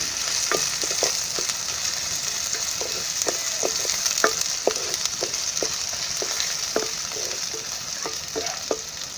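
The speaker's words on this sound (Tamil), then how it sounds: "இப்போ நம்ம அரைச்சி வச்சுருக்கிற பூண்டு சீரகத்தை ஆட் பண்ணி நல்லா மிக்ஸ் பண்ணிக்கோங்க" Ground garlic and cumin paste sautés in hot oil in a pan for cowpea and bottle gourd sambar: a steady, even sizzle runs throughout, punctuated by frequent light clicks and taps of a stirring spoon.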